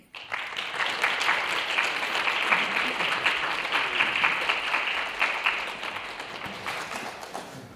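An audience at a museum lecture applauds to welcome the speaker, with steady, dense clapping from a roomful of people that swells quickly, holds for several seconds and then gradually thins out.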